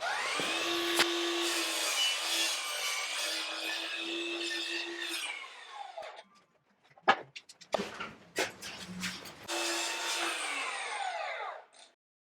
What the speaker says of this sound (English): So we've just cut our treads to the width that we need them